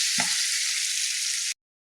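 Mango pieces frying in oil hiss with a loud, even sizzle, a brief stir or clink near the start, then the sound cuts off abruptly.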